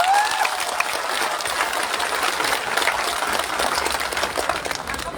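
Sustained crowd applause at a protest rally at Jantar Mantar, a dense, steady wash of clapping that holds at even loudness throughout with no pauses and no talk over it.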